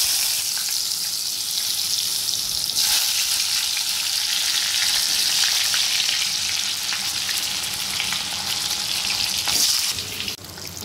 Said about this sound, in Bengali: এবার আমি পটলগুলোকে ভেজে নেব।